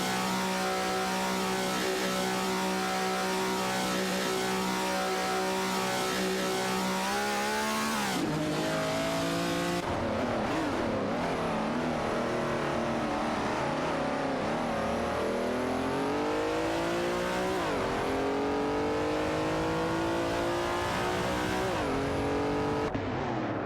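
Race cars in a racing video game, an Alfa Romeo Carabo and a 1970 Ford Mustang, engines droning at a steady pitch, then shifting and revving up and down through gear changes, loud and continuous with no talking.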